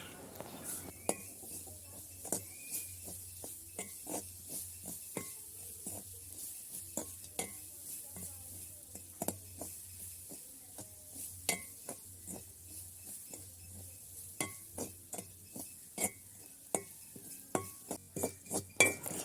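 Grated coconut dry-roasted in a pan over a wood fire, with repeated scraping and clinking strokes of a spoon against the metal pan in an uneven rhythm over a faint low background, fairly quiet and close.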